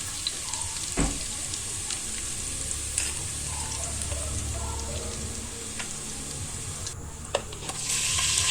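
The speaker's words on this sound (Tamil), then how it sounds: "சேர்த்து இஞ்சியும் சேர்த்து நம்ம பரட்டிக்கலாம்" Ginger stir-fried in a pan for beef biryani, a steady close sizzle and frying hiss with occasional scrape and clink of a spatula stirring throughout.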